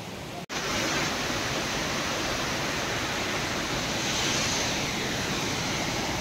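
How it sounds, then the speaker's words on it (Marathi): Dainthlen Falls in Cherrapunji roars as a broad, steady rush of falling water, loud and constant, after a brief handling knock at the start. "आपण खालनं वॉटरफॉल पाहण्यासाठी आलो आहोत"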